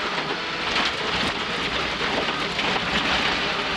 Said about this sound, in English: Oh, rain, perfect timing.